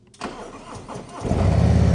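A 2024 Harley-Davidson Road Glide or Street Glide motorcycle engine starts close by: a brief starter whir and cranking, then the engine catches and settles into a loud, throbbing idle.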